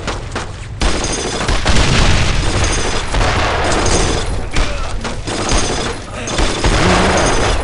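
Dense, continuous gunfire and heavy thumping blasts fill a WWII squad-combat video game battle, with rifle and machine-gun bursts loud and close throughout while a voice shouts in the mix.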